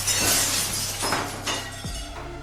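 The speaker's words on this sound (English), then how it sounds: "A rock had come flying through the front window, sending shattered glass across the floor." Window glass shatters as a thrown rock crashes through a front window, a loud bright burst followed by scattered tinkling fragments settling across the floor.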